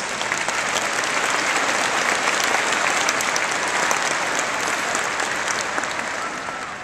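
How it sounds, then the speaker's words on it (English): Sustained, dense applause fills a commencement ceremony at Oklahoma State University, a large crowd clapping steadily and loudly throughout with no break. "Let's give them a round of applause."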